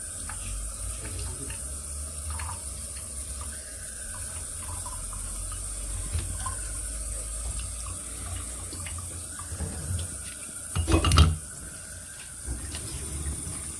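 Filtered tap water runs steadily from a reverse osmosis purifier with a Filmtec, Pentair, LG or unbranded membrane, a soft continuous flow with faint clinks and a brief louder splash near the end.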